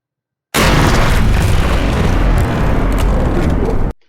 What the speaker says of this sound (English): Let's say that you want to just have, explosions from time to time